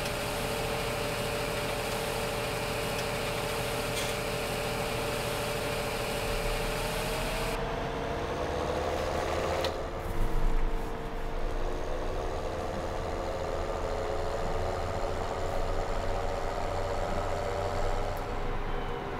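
A tractor engine idles steadily in Farming Simulator 2017, a low continuous hum with a small bump in the middle, under game ambience with no talk.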